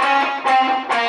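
Distorted electric guitar slowly playing part of a solo, three sustained notes struck about half a second apart, loud and alone.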